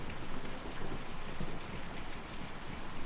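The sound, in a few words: rain in Kentucky Route Zero video game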